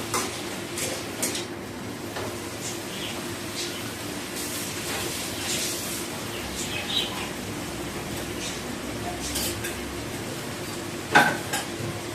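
Chorchori, a Bengali mixed vegetable dish with green banana paste, cooking in a pan with faint steady sizzling and occasional light clinks of utensils against the pot, without any talking.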